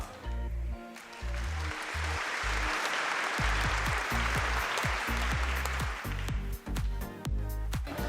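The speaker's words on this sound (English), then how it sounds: "can we have a big round of applause for the fashion icon winner in the senior category, Tanya Gupta" An audience at an Indian fashion icon pageant gives sustained applause for the senior category winner. The steady clapping runs throughout, with music and occasional thumps beneath it.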